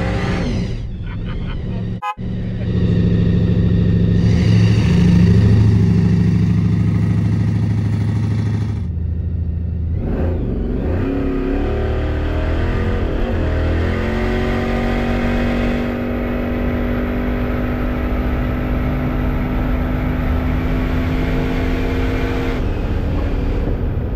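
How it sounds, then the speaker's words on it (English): 1800-horsepower Holden muscle car at a quarter-mile drag race, its engine roaring loud and close, surging as it accelerates with a sharp crack early on, then pulling hard through gear changes in a sustained, rising howl. "driving his 1800 horsepower Holden. So strap in and have a listen to this absolute beast."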